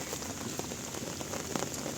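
Heavy rain pours steadily on the Padma River at Dohar, a dense, even hiss of drops striking a surface up close, with no voices.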